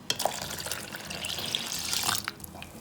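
Half a litre of water poured steadily into a yogurt mixture for karhi, a continuous close splashing gush lasting a few seconds with no talk.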